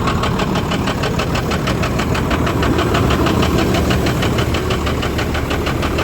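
A DT466-powered International dump truck diesel engine idles steadily close by, with a loud, even knocking rhythm running without a break and no talk over it.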